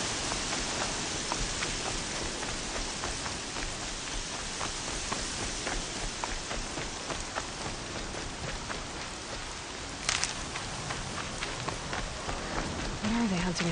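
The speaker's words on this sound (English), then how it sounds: "Here comes the rain." Steady heavy rain pours down in the game Horizon Zero Dawn, a dense continuous hiss of drops on the ground that stays loud throughout, with a brief louder patter near the end.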